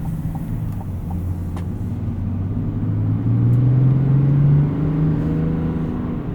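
A 2024 Chevrolet Silverado 1500 ZR2 with a 3.0L Duramax diesel gives a low, steady engine drone while driving, swelling slightly louder and higher midway, then easing back. No voices.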